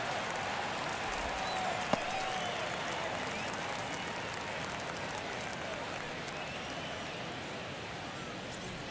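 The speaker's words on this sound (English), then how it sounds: "Crowd locked in right now." Steady, dense crowd roar from a baseball stadium crowd in MLB The Show 23, sustained at even loudness throughout with a brief sharp crack near the start, no distinct claps or chants standing out.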